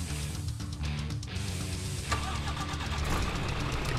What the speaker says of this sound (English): Switching the engine on